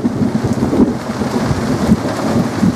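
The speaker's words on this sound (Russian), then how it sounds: "гром гремит" A heavy summer downpour in Barnaul brings steady rain along with a deep, rolling thunder rumble, both loud and close throughout.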